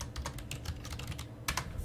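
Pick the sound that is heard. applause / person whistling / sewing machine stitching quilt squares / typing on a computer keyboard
typing on a computer keyboard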